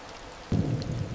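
Rain with thunder: after a half-second of quiet, a deep rumble rolls in abruptly and carries on loud through the rest of the short stretch, with a rainy hiss over it.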